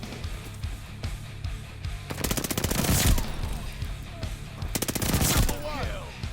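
Rapid bursts of automatic fire from an Armaguerra submachine gun in a first-person shooter game, two loud sustained volleys at close range over busy background game noise.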